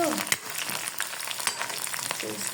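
Onions frying in a pan in a home kitchen give a steady, close sizzle with scattered stirring scrapes and clicks, and no one speaks.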